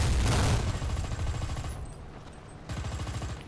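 A tank cannon fires in the War Thunder tank battle game, a loud, booming blast at the start that rumbles away, followed by a second, lower rumbling burst.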